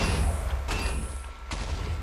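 Explosions at a Minecraft Skyfactory 3 wither spawner: loud, dense blasts roll on continuously, with two sharper bursts standing out, all heard up close with no talking.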